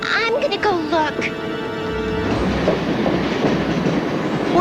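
A cartoon train in James Bond Jr rumbles and clacks loudly along the rails in a steady roar, after a voice and tonal music fade out at the start.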